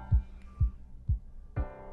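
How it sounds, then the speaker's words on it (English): Heartbeat thumps in a political web ad, four evenly spaced low beats about half a second apart, close and clear over a faint hum. "You can actually hear his heart beating in that web ad"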